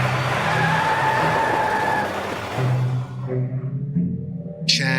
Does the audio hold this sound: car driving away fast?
yes